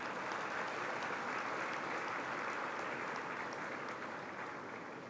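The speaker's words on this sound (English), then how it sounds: "Give yourselves a round of applause, please." Graduates and guests at a management institute convocation ceremony give a round of applause, a dense, even wash of many hands clapping that fades slightly toward the end, with no talking over it.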